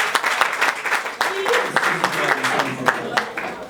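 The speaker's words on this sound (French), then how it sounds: "est-ce qu'on peut applaudir très fort pour le porte-parole?" A comedy club audience applauds the spokesman with a busy patter of clapping, mixed with scattered voices and shouts rising over it.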